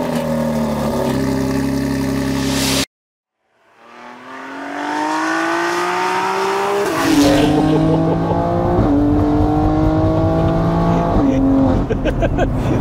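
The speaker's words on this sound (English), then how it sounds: "I think we'll get it fired up and make sure it's up to temp, and then we'll go for a spin." An 800 bhp BMW X3 M Competition fitted with meth injection, heard revving up after a brief silence and then accelerating hard through rising gears, each shift marked by a drop and climb in engine pitch, loud and close throughout.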